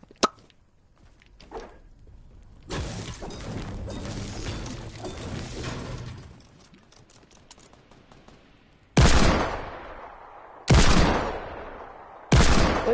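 Video game gunfire: a sharp early shot, then several seconds of rapid sustained firing, followed after a lull by three loud, close single blasts spaced about two seconds apart, each ringing out and decaying.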